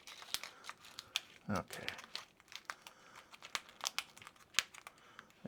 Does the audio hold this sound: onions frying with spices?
no